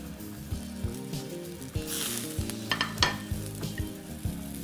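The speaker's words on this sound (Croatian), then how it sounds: "Sada u tavu stavimo ribu s kožom prema dole." A scorpionfish fillet fries skin-side down in a pan after vegetables and white wine. A steady close sizzle and crackle carry over a low background hum, with a few brief clinks.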